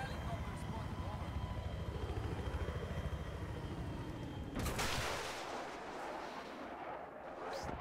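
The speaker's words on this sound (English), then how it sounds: "Enemy helicopter spotted" An enemy helicopter's rotor thumps steadily in a video game battle, joined by a sudden burst of gunfire or explosions, with players talking over it.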